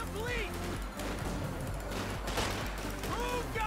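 Machine gun fire in Company of Heroes 2 during a 2v2 Annihilation battle, with steady rattling bursts mixed into dense battlefield noise while someone talks over it.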